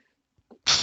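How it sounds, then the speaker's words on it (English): A single loud, close sneeze bursts out after a couple of faint breathy catches and a quick inhale, sharp and hissy at the end, with no talking. "I need to sneeze, by the way."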